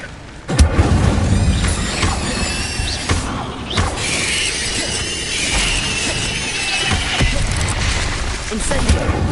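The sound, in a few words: Incendio fire spell blasts in video game Hogwarts Legacy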